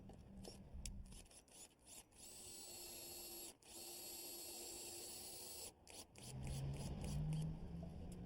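Aluminum gutter fastener being driven into a fascia board with a power drill, several short bursts of whirring and a longer steady run, close and fairly quiet.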